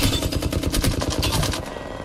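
Rapid automatic gunfire from the Apex Legends video game rattles in a dense, loud, continuous burst of sharp shots lasting about two seconds.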